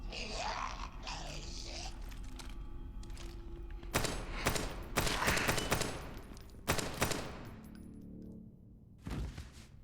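Gunfire in the survival-horror game Daymare: 1998, with a few muffled shots early on, then loud, rapid bursts and volleys of shots from the middle onward, separated by short pauses.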